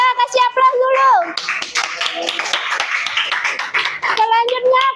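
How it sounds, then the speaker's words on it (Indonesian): A classroom group gives a round of applause for group three, several seconds of dense many-handed clapping with a voice speaking before it starts and again as it fades. "Kita kasih aplaus dulu."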